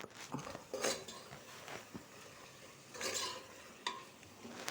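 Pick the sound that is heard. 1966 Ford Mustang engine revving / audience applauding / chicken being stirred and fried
chicken being stirred and fried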